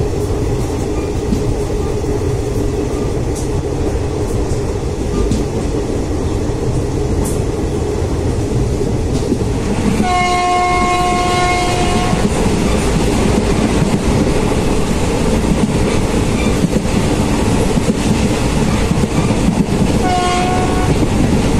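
A train in India rolls along the rails with steady rumbling and clatter, then a loud horn sounds twice, a long blast near the middle and a shorter one near the end.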